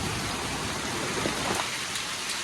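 Heavy rain pouring down over an outdoor bird and bee enclosure, a dense continuous hiss of drops beating on surfaces, loud and steady throughout with no voices.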